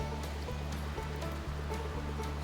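A rain-swollen creek rushes steadily, giving a dense, continuous wash of flowing water that stays even and moderately loud throughout, alone with no voices.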